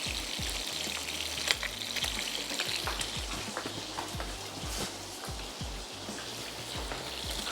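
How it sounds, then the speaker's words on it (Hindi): Cream being stirred into frying bitter gourds in a pan, giving a steady dense sizzle with scattered soft scraping and clicking strokes throughout, no voices. "यहाँ हम ऐड कर देते हैं क्रीम और सिर्फ इसको इतना चलाएंगे बहुत अच्छे से जो क्रीम है वो गरम हो जाए"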